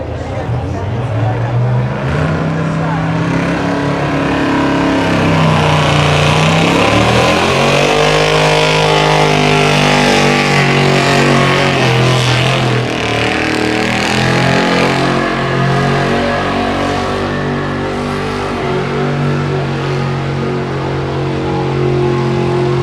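A diesel tractor engine roars loudly through a tractor pull run, its pitch rising and falling as it revs and strains, continuous for over twenty seconds, with an announcer's voice partly audible beneath the engine.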